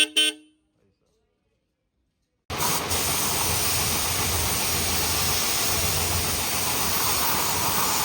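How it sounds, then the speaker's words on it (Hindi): A Tata Tiago's two car horns blare together after servicing and adjustment at a workshop, a loud continuous honk that starts abruptly after a short silence and holds steady to the end. "अब दोनों हॉर्न बज रहे हैं"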